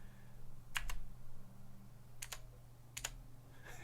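Keys clicking on an AJAZZ AK33 RGB mechanical keyboard, a few separate sharp presses spaced out, some in quick pairs, quiet and close against a low steady hum.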